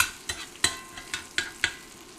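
Fish pan-fries in canola oil in an iron skillet on an induction burner, giving a steady close sizzle punctuated by six sharp crackling pops at irregular intervals.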